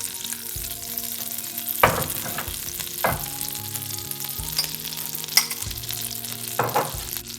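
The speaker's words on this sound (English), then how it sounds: "Now I am going to prepare white sauce. For that, first I am putting butter." Three tablespoons of butter melting in a pan as the base for a white sauce, with a steady close sizzle and a few sharp clinks or stirring knocks scattered through.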